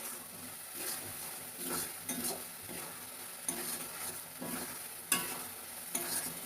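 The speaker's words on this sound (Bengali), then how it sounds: "কন্টিনিউ নেড়ে নেড়ে এটাকে শুকনো করতে হবে।" Fish curry fries in a pan and is stirred repeatedly, with a steady sizzle broken by rhythmic scraping strokes and occasional clinks of a utensil against the pan, heard close and without talk.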